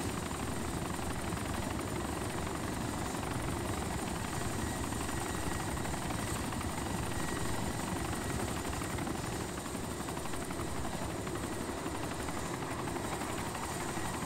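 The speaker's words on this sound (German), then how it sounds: "Habt ihr das gesehen? Ein Flugzeug." Aircraft engine drone from an airplane flying overhead in DayZ Origins, the ArmA 2 mod, heard as a steady, loud, broadband roar that holds for the whole stretch without pause.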